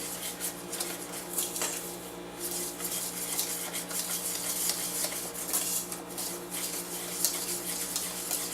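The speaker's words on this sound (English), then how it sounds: "Go back to whisking it together." A whisk beats black magic cake batter with sugar in a bowl, producing a continuous, close rhythmic clatter and swish at a moderate level.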